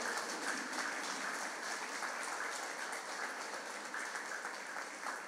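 Clapping from an audience standing to honour a guest at an old age home event, a continuous fairly faint patter of many hands with no voices over it.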